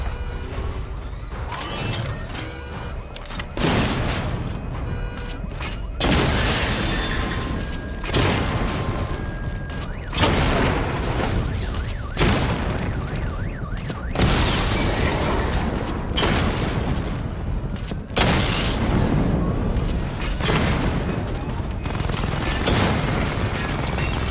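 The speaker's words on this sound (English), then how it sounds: "Charge the missile barrage to level 2 to destroy up to 4 targets at once" A missile barrage in Batman: Arkham Knight sends a series of heavy booming blasts at irregular intervals of a few seconds. Each impact brings a broad crackling burst over a constant mechanical rumble.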